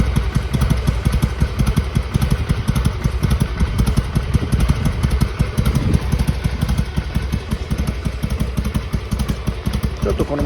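A rubber-mounted Harley-Davidson Sportster XL883R idles while warming up, its V-twin giving a steady, loud, lumpy chug that holds evenly throughout with no pauses.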